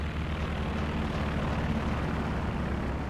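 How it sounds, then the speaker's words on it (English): A recon plane drones overhead in Company of Heroes 2, a steady propeller engine hum that holds even and loud the whole time, with no voices. "Recon plane in the air again."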